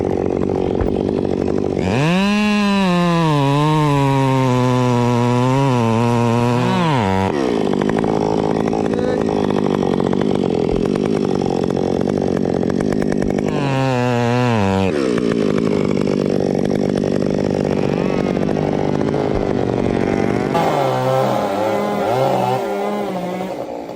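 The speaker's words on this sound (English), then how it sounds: "using a chainsaw to cut the tree trunk into neat pieces" A large, powerful chainsaw cuts a tree trunk into pieces, its engine roaring loud and close with steady revving and pitch swings as the bar bites into the wood, then easing and surging again.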